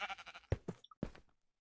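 A Minecraft sheep bleats in short, wavering bursts, followed by a couple of sharp knocks and blips from the game, fairly close and clear.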